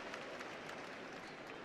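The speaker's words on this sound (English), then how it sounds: "To a cheer from the crowd." A crowd at a women's college basketball game, Gonzaga vs Montana State, cheers and applauds steadily as a player returns; the noise sounds distant and soft, with no talk over it.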